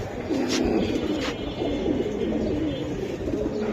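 Silver Giribaj racing pigeons coo softly in a low, throaty murmur that runs continuously at close range, with faint higher chirps now and then and no speech.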